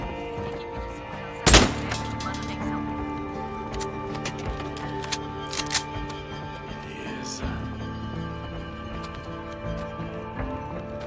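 Gunfire from a powerful weapon in the Days Gone video game: one loud sharp shot stands out early, then scattered fainter bangs over a busy mix of game sounds, music and effects.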